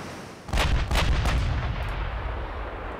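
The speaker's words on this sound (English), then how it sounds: "fire all of our guns at once" Heavy naval guns of a battleship fire a salvo in Ultimate Admiral Dreadnoughts, a WW2 Yamato versus Iowa match: several loud, closely spaced booming blasts that roll into a long rumbling decay.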